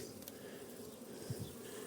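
A steady honeybee drone hums throughout at low level, with a brief louder burst near the end, like bees buzzing close by at a hive.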